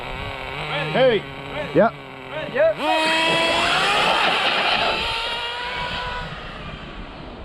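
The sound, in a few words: nitro RC drag car engine running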